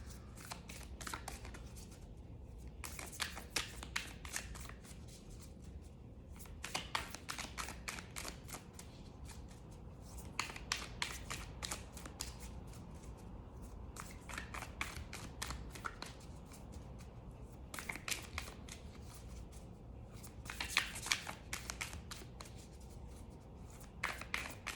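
Moonology oracle cards being shuffled by hand, repeated riffling bursts of crisp paper flutter separated by short pauses, close and fairly quiet, with no talking.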